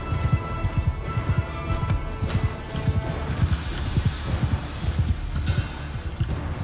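A horse gallops in the Mount & Blade II Bannerlord video game, a fast steady run of hoofbeats close by over a background hum of battle, with no talking.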